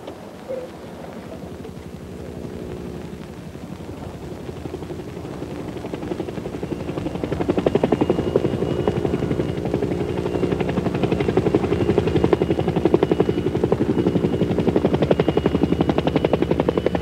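A helicopter flies overhead, a steady rotor and engine drone that swells louder about halfway through and then holds, continuous with no other sounds.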